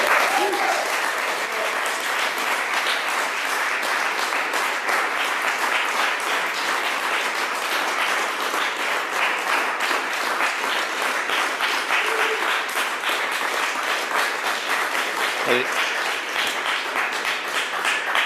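A large audience applauds at a federal government announcement of a $40 million investment in Toronto's Harbourfront Centre, a dense, steady wash of clapping that carries on at an even level throughout, with no voices over it.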